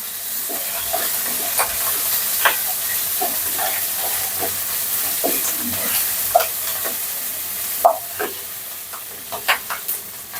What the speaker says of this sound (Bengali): তো তেলের মধ্যে আমি পেঁয়াজ কুচি দিয়ে দিলাম, কাঁচামরিচ দিয়ে দিলাম, একটু পাঁচফোড়ন দিয়ে দিলাম